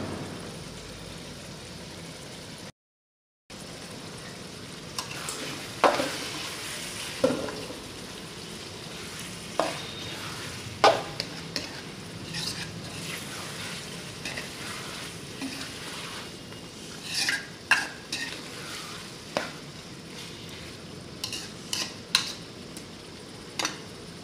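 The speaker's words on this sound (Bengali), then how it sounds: "এটা হাফ সেদ্ধ অবধি মাংসটা রান্না হবে।" Chicken being cooked in a pan for a Bengali recipe, with a steady low sizzle and scattered sharp clinks and scrapes of a utensil stirring against the pan, no voices.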